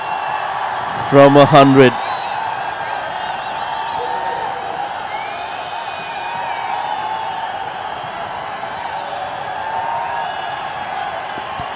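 Cricket crowd at a Nepal versus USA match cheering as a batter nears a milestone, a broad, distant roar sustained throughout under a commentator's voice, with a short loud burst of horns or whistles near the start.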